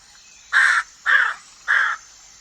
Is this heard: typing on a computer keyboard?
no